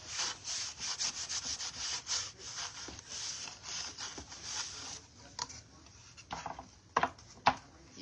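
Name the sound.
rubbing wax onto a wooden shelf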